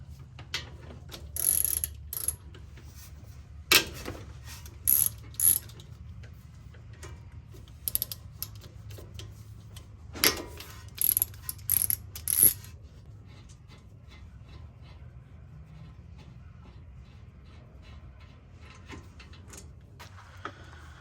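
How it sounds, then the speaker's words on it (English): A ratchet with a 13 mm socket works the brake caliper bolts off a Ford Expedition: short, crisp clicking bursts close by, spaced out over the first stretch, then the sound fades to quiet handling noise. "we're going to get a 13 millimeter socket, and we're going to remove these two bolts"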